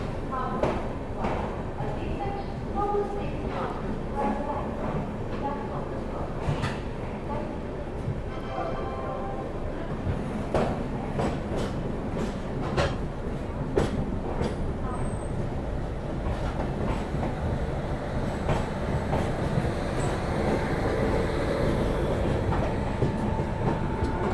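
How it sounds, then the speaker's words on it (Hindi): The Farakka Express runs steadily after leaving Malda Town station, a continuous loud rumble with rhythmic wheel clatter heard from on board, while a voice talks over the noise. "निर्धारित समय से हम लोगों का डिपार्चर हो चुका है मालदा टाउन रेलवे स्टेशन से।"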